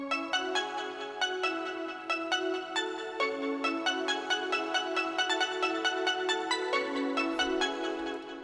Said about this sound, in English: Then I added like a Caribbean plucked melody